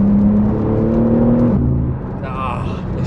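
A BMW G82 M4 drives along a road, its engine a low steady drone under a person talking, then easing to a softer whir with another car's sound near the end.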